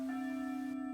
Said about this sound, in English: That bell means it's time for a lunch, kids.